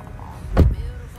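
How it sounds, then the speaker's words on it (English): A single solid thud of an Isuzu D-Max X-Terrain pickup door shutting, short and close, in an otherwise quiet space. "Solid closing sound."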